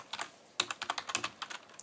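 Fingers type quickly on a computer keyboard, a close run of about a dozen crisp clicking keystrokes in an uneven rhythm over two seconds, with no voices.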